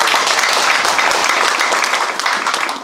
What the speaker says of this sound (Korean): 군수님께 응원의 격려의 박수 한번 부탁드리겠습니다